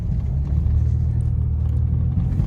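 A Ford Ranger's engine growls in a steady, deep rumble as the pickup does donuts in the snow, heard close and continuous from inside the vehicle.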